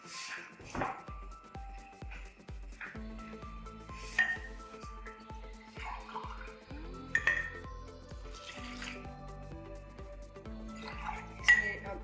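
Water is poured into a cooking pot, about one and a half to two glasses, while making cardamom sharbat, with a run of quiet drips and splashes, light clinks of the vessel and a rising filling tone.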